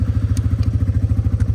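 A 700 ATV engine with an uncorked, straight-through exhaust idles loud and close, a fast, even chugging pulse with occasional clattering knocks.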